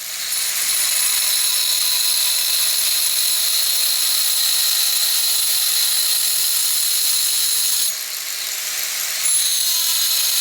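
Metal is cut for the liner lock of a pocket knife made from scrap. A loud, steady, harsh grinding whine runs throughout, dipping briefly near the end before resuming.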